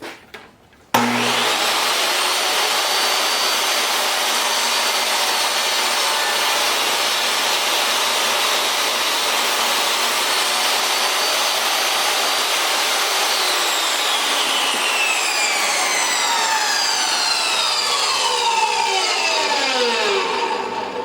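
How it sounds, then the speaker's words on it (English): Power saw cuts through a 2 by 4 wooden board, starting abruptly and whining loudly and steadily for about twenty seconds, its pitch sweeping and shifting near the end of the cut. "I'm going to finish cutting this board"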